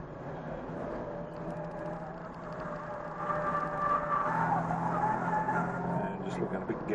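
Race cars in a group squeal their tyres through a tight hairpin at Hampton Downs in a one-hour cup race, engine drone and skidding rising midway, heard at a distance beneath commentary.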